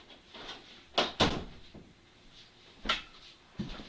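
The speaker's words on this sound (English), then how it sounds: "I'm gonna shut the door while I wait on people." A door being shut indoors in a home craft room, heard as a few sharp knocks and clunks, two close together early on and more a couple of seconds later, fairly close, with no talk over them.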